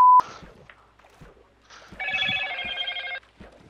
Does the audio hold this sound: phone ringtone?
yes